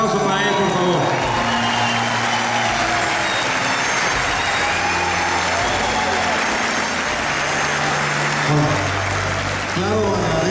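Applause from a theatre audience at the Teatro Metropolitan during a posthumous tribute, a broad wash of clapping held under a steady drone, with voices audible at the start and end.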